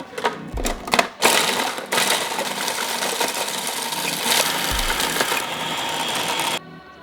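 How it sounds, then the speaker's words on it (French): A food processor blends hardened caramel into praline, a harsh, loud grinding clatter that starts in short bursts, then runs continuously for several seconds before cutting off abruptly. "On va pouvoir tout mixer dans un robot culinaire."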